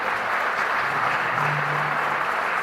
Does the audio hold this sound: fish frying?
no